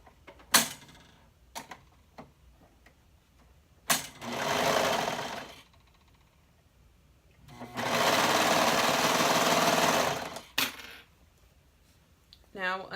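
A serger stitches a tank bodice seam in two long, loud runs of rapid mechanical whirring. Short clicks and brief stitch bursts come between and after the runs, with no talking.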